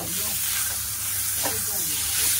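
Prawns stirred in a hot frying pan give a steady sizzle and hiss with faint scraping of stirring, moderately close, without talk.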